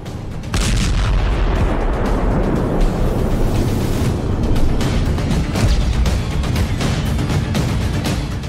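Storm Shadow cruise missiles strike an S-300 missile depot with a heavy, continuous rumbling barrage of blasts and booms that starts abruptly and carries on loudly, dense with crackling secondary explosions.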